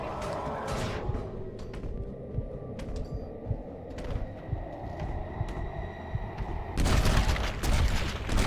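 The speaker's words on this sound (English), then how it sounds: "Head popping. That helped. Oh! Reload, John! Reload!" Gunfire in a video game shooter, with scattered shots and rumbling combat over a steady din. A louder, denser burst of firing breaks out near the end.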